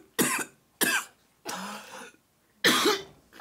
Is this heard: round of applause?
no